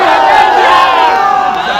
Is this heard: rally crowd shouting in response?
yes